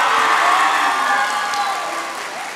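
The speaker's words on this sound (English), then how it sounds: "Let's give them a big round of applause." An audience at an 8th grade promotion ceremony applauds and cheers in a dense, sustained wash of clapping with scattered whoops. It stays loud and full throughout and eases only slightly toward the end.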